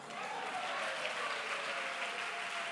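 Congregation applauding during a church sermon by Archbishop Kodja, a dense, sustained wash of clapping from a large crowd that stays even throughout.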